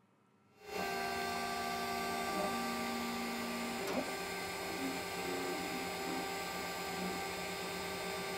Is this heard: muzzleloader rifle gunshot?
no